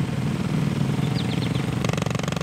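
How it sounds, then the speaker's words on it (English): A motorcycle engine recorded from a camera mounted behind the exhaust gives a steady, close, continuous rumble. Its texture grows more pulsing and gritty toward the end. "the camera capturing the actual engine of the bike"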